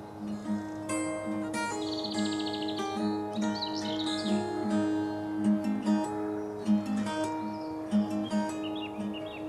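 A willow tit calling by a river, with repeated chirps and buzzy call notes over other birdsong, fairly close and clear against a steady low background tone.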